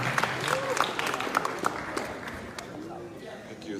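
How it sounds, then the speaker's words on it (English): Scattered applause from an audience at a town hall meeting in the Pretoria State Theatre, South Africa, with crowd voices and shouts mixed through the clapping, which carries on steadily and fairly loud throughout. "Pastor Ernest, a round of applause,"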